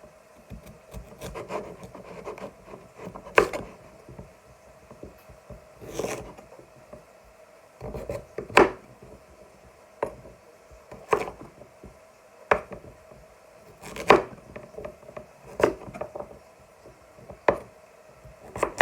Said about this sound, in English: I'm now going to get on with roughly chopping the potato, the sweet potato.